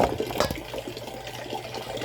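Water drains steadily out of an appliance being repaired, a continuous rushing, gurgling flow running the whole time at close range with no talk.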